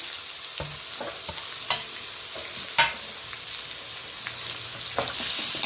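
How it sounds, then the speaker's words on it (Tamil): Cut capsicum frying in hot oil in a pan for chilli prawns: a continuous close, loud sizzle punctuated by several sharp spatula taps and scrapes, building slightly toward the end, with no voices. "இப்போ நம்ம வந்து ரெண்டு கேப்சிகம் கட் பண்ணது போட்டுக்கலாம்"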